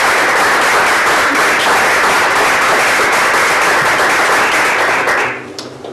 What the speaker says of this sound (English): give them collectively as a group a round of applause